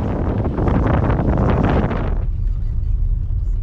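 Strong wind buffets the microphone on the Baltic coast at Fyns Hoved, with dense roaring gusts that drop abruptly to a softer steady rumble partway through.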